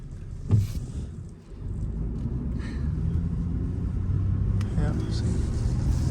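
A low-mileage 1997 Chevrolet S10 pickup truck's engine starts up and idles with a steady, close low rumble, while people talk over it.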